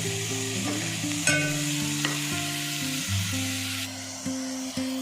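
Tomato, ginger-garlic paste and salt sauté in hot oil with a steady crackle, while soft background music plays alongside.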